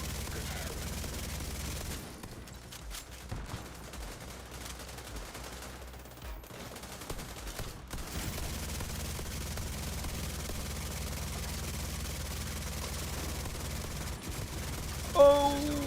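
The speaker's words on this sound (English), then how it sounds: "Not the guy shooting you with an LMG." Sustained LMG bursts in The Division 2, a steady dense rattle of automatic fire in a busy firefight, with some quieter gaps and a sharp louder shot near the end, voices faintly present beneath.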